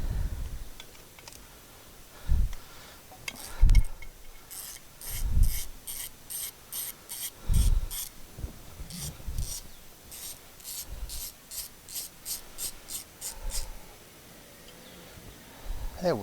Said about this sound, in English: Another 1/2 inch bolt. So let's have the 1/2 inch bolt out.